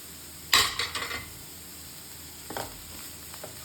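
Bitter gourd stir-fry with grated coconut being stirred in a pan: a sharp scrape and sizzle, a few quick clinks, then another softer stir later over a faint steady hiss.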